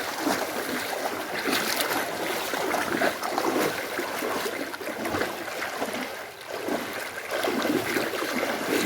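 Flood water current rushes through a flooded area, a loud, steady, broadband roar that holds for the whole stretch without any talking.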